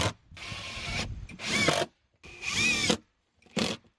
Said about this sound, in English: I'm just using some 2-inch screws to get this on here.